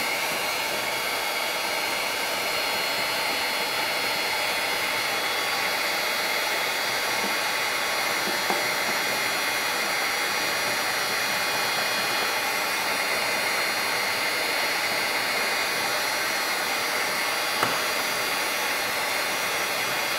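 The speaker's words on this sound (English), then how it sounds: "let's start peeling off these stickers with the heat gun" A heat gun blows hot air steadily onto a Yamaha Breeze ATV to loosen its stickers, a continuous close whooshing drone with no pauses.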